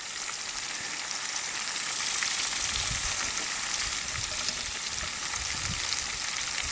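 Small chicken drumsticks deep-frying in oil inside a Hungarian mess kit outdoors, a steady soft hiss and bubbling with faint crackles, fairly quiet and constant, no speech.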